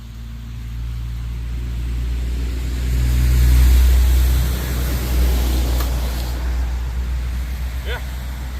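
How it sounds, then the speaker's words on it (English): A truck drives past outdoors, a low rumble that swells to a peak in the middle and then fades away, loud and fairly near, with a voice speaking over it. "we'll shoot one more time as this truck drives by"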